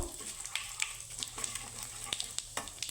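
Whole cumin and asafoetida fry in oil over a low flame, a soft, steady sizzle dotted with small crackles and faint spoon taps, close and quiet with no talk.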